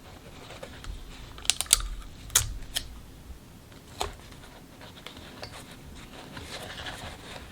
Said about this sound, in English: 16 and 17 have a lot of darts that need to be taped together.